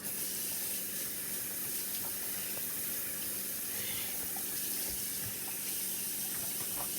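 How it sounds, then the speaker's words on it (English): Hands being washed under a running kitchen tap while making meatloaf, a steady close broadband rush of water with small splashes throughout, no talking. "Let me wash my hands,"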